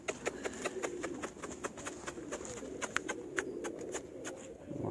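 Pigeons coo on a rooftop, soft repeated calls at close range over a low hum, with occasional sharp flutters or taps.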